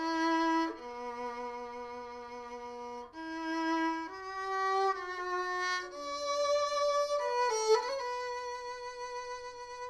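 Solo violin playing a song, the first verse leading into the second part, with clear sustained bowed notes moving in a slow, steady melody, close and unaccompanied.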